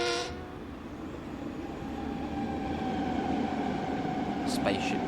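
An M9 electric multiple unit on the Long Island Rail Road rolls past in Train Sim World 4, a steady loud rumble with a whining electric tone building and holding, ending with a short high horn-like burst.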